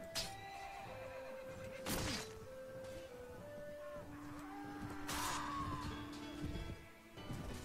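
A horse whinnies in a medieval battle in the video game Mount and Blade: Warband, with long wavering neighs ringing out over a steady din of fighting and distant crowd noise, and no voices.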